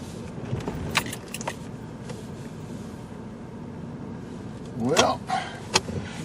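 Keys jangle and clink in short bursts as someone gets into a Ford Escape, with scattered handling noises and a quiet interior background; no speech.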